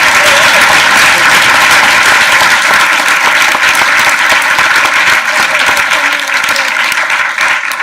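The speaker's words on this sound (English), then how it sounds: "Let's give them a quick round of applause." Conference audience applauding a panel at the close of an afternoon session, a dense, steady wash of clapping that fills the room from start to finish, tapering slightly near the end.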